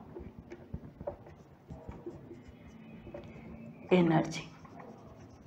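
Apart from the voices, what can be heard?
pen writing on paper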